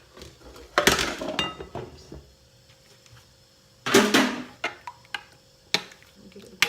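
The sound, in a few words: mixing tomatoes and onions in a bowl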